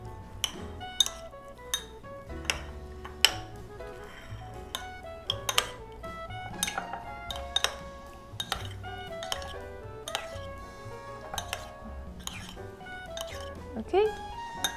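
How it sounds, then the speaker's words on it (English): Shrimp being mixed with salt in a bowl produces rapid, irregular clinks and taps of a utensil against the dish, close and fairly quiet throughout. "Mix the shrimp with salt."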